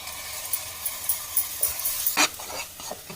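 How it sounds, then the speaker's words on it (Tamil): Ground masala paste for paneer masala, made with onion, cashew and poppy seed, sautés in a pan with a steady sizzle while a spoon stirs and scrapes in repeated short strokes. "நம்ம அரைச்ச மசாலா காரத்துக்கு எல்லாம் போட்டிருக்கோம் பொடியெலாம் இதெல்லாம் சேர்ந்து வதங்கிட்டு இருக்கு"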